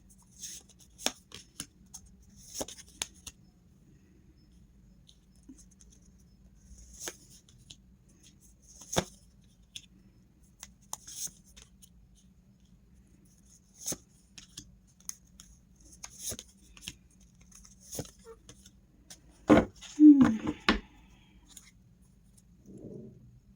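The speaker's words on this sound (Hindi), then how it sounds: "पहले मैं कार्ड निकालती हूँ फिर आपको बताती हूँ।" Tarot cards drawn and shuffled by hand make sparse, light snaps and taps scattered across a quiet room, with a louder cluster of card shuffling near the end.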